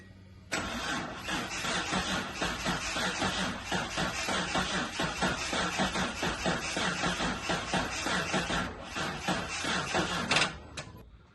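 A 1983 Datsun 280ZX starting after sitting for 18 years: a loud, rapid, rhythmic starter cranking that churns steadily for about ten seconds before catching briefly, then stopping.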